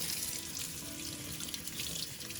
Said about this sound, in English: you rinse your steak and squeeze it out